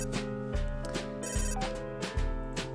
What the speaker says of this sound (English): Ignores a phone call.